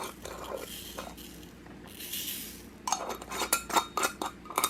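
Micro beads stirred into texture paste for a mixed media canvas, heard as soft scraping and then a run of sharp clinks and taps against a container at close range.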